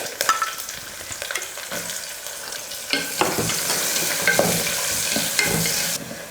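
Sliced onion frying in a pan with cinnamon, star anise, cloves, cardamom and curry leaves, a steady close sizzle broken by repeated scraping stirs, with no talk.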